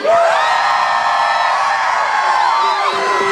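A big crowd screaming and cheering together in one sustained, loud roar of high-pitched yells that holds steady for a few seconds.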